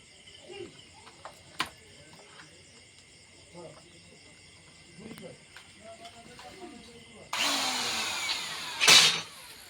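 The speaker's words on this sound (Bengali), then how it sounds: "রড ঢোকানোর জন্য ডিল করছি" A power drill fitted with a 5-thread bit bores a hole for a rod. It starts loud and steady near the end, after a stretch of quiet background with a faint insect-like drone and scattered small knocks.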